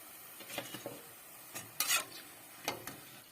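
Garlic pampushki buns fry in oil, with a faint sizzle and a few scattered scrapes and clatters, one brief louder burst, quiet and close, with no talk.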